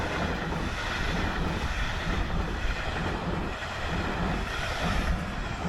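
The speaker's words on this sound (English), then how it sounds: "just as this X2000 was speeding past the station" Swedish X2000 high-speed train speeding past a station platform in Stockholm, a steady loud broadband rush of rolling wheels and air that holds throughout without a break.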